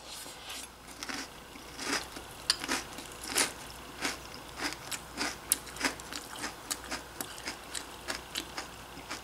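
A crunchy cereal mix of Sonic, Lucky Charms and Cinnamon Toast Crunch with marshmallows is chewed up close, giving a steady run of sharp crunches with no talking.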